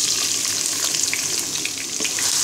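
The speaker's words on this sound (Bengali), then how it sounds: "পেঁয়াজটাকে ব্রাউন কালার করে ভেজে নিব" Chopped onion frying in about a cup of hot soybean oil in a karahi, a loud, dense, continuous sizzle heard close up for a couple of seconds with no voices.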